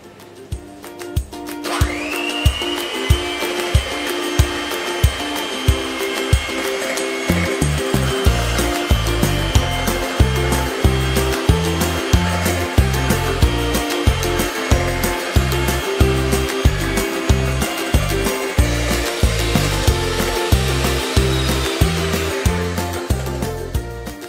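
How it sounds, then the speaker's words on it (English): An electric hand mixer whisks chocolate lava cake batter toward the ribbon stage, a steady close motor whine that starts after a moment and holds, with rhythmic knocking of the beaters against the bowl throughout and no speech. "we are going to mix this with an electric hand mixer until it gets to the ribbon stage"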